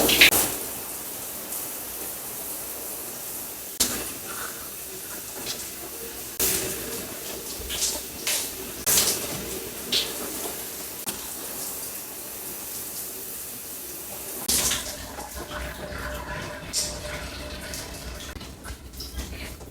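Running water rinses a homemade hair growth treatment out of hair, a continuous hissing spray from a tap or shower with occasional splashes and knocks, close and steady throughout.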